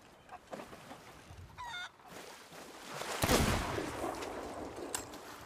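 A chicken in the pirate video game Sea of Thieves gives a short squawking honk, followed by a loud sudden burst like a shot and a rustling noisy stretch with faint clatter.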